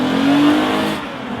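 A Lexus is driven hard through an orange-cone autocross course in a parking lot, its engine revving loudly up and down with a brief rising whine, close and continuous for about a second and a half.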